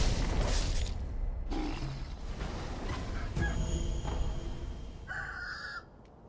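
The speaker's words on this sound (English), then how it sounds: "dang oversized chicken" An oversized chicken in the video game Sekiro clucks and squawks through several bursts over a rumbling game background, ending in a sharp, high crowing cry, with no talk.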